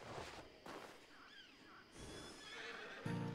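A horse in a western video game gives a rising, wavering neigh, close and clear, among quiet game ambience with a few soft thuds and faint hoof sounds.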